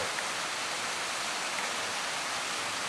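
A waterfall on the Kumano Kodo trail in Japan, a steady, faint broadband rush of falling water with no other sounds.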